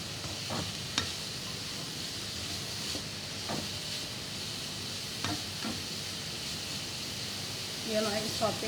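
Minced meat with black pepper and salt sautés in a pan for spaghetti, a faint even hiss with occasional spatula scrapes and taps.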